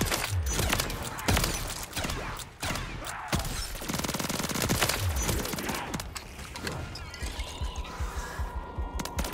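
Video game gunfire in rapid, loud bursts of shots, dense and close, thinning toward the end with mechanical clicks and rattles.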